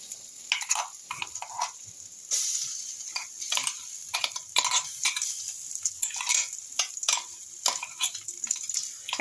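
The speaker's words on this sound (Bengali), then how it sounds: "এই পর্যায়ে আমি গ্রেট করা মটরশুঁটিটা তেলের মধ্যে দিয়ে দেবো" Grated green peas frying in hot oil after cumin has been toasted, with crisp crackling sizzle and repeated scraping stirs of a utensil against the pan, fairly quiet and without talk.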